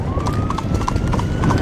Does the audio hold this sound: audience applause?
no